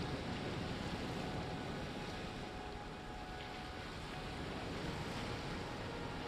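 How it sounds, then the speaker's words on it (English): Steady, broadband rush of water or surf from a played video soundtrack, continuous and even in level throughout with no speech. "the rushing of the water doesn't match this water"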